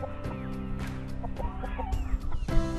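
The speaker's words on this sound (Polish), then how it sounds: "To są wszystkie kurczaki." Chickens cluck and chatter nearby in a busy flock, with overlapping short calls and a few louder squawks.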